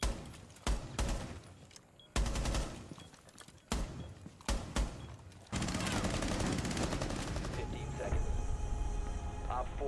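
Gunfire in the video game Rainbow Six Siege: several sharp, loud shots in quick bursts over the first seconds, then a denser, sustained roar of firing and noise to the end.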